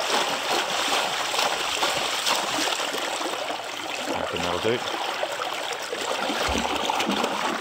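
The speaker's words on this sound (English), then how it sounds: "Look at that for a creek, eh?" A creek flows steadily at close range with a broad, continuous rush and some splashing, and someone speaks briefly over the water.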